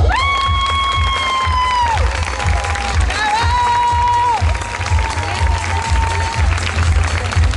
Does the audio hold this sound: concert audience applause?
yes